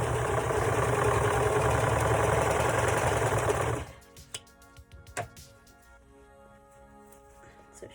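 A sewing machine stitches together sides of small doll clothing, a steady close whirring hum for several seconds that stops abruptly, followed by faint handling clicks.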